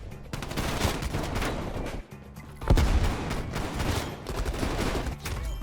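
A shotgun fires in a Modern Warfare match: dense, loud bursts of gunfire run almost continuously, with a brief lull before more heavy shots.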